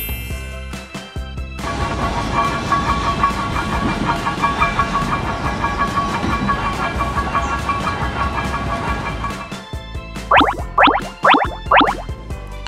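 A funicular railway car running steadily on its track with a continuous mechanical rumble and whine, ending in a few short rhythmic bell-like chimes.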